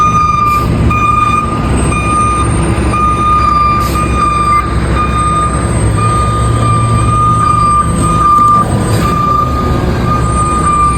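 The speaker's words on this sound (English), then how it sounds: "Sorry about the trash truck in the background, the noise" A garbage truck's loud diesel engine rumbles steadily nearby while a high, piercing reversing beep repeats at a regular pace throughout, with no talking.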